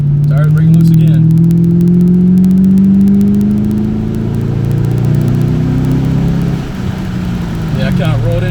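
A 2007 Mustang GT accelerates hard with its tires breaking loose, a loud, sustained engine drone and tire roar close by that rises in pitch and then dips and wavers.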